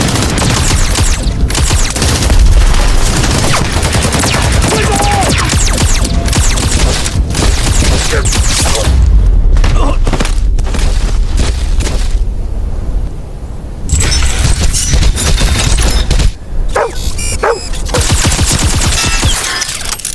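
Relentless film battle gunfire as a robot army shoots, dense machine-gun bursts and booming impacts loud and continuous for about twenty seconds, with a short lull partway through.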